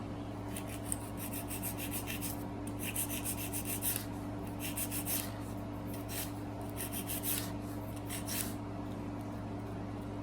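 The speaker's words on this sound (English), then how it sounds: "you just want to file from one side to the other to make sure that the nail is not crooked" A nail file rasps back and forth across a fingernail while it is shaped into a ballerina shape, close and crisp, in quick bursts of repeated strokes separated by short pauses, over a faint steady hum.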